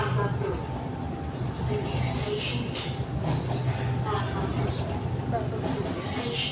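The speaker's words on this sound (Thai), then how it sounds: "นี่ครับบรรยากาศภายในสายสีแดงนะฮะ" Inside a Bangkok SRT Red Line electric train running between Taling Chan and Bang Son, a steady rumbling hum of wheels and motors carries on throughout, with brief higher hissing bursts over it.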